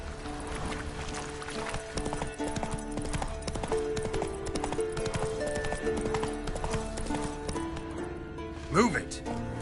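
Roach, a horse in the video game The Witcher 3, gallops with fast, rhythmic clip-clop hoofbeats that continue steadily throughout, and a short whinny near the end. Someone speaks over the hoofbeats.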